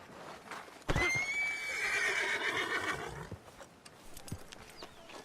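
A horse in the video game Red Dead Redemption 2 whinnies loudly for a couple of seconds, rising then trailing off, with a few hoof clops and soft thuds around it.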